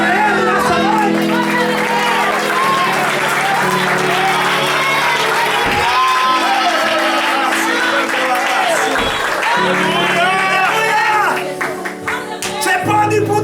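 An evening church congregation applauds loudly and continuously, with scattered shouts and voices rising from the crowd before it eases off near the end.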